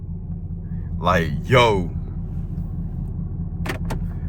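A loud Chevrolet Camaro ZL1 V8 rumbles low and steady throughout, heard from inside the car, while someone talks briefly over it and a couple of short clicks come near the end.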